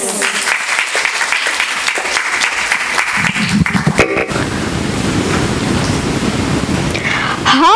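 Audience applause welcomes a guest speaker onto a talk stage, with loud, dense clapping at first that turns into a softer, rushing wash of clapping and crowd noise.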